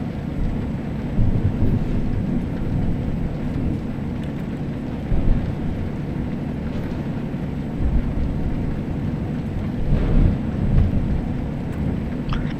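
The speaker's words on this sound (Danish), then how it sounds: "Nu begynder det at regne ved mig." Rain falls steadily with low rumbles of thunder during a drive along a road, a dense, continuous wash of noise at moderate level with a few louder swells and no talk.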